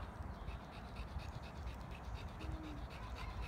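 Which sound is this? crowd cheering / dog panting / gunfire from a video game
dog panting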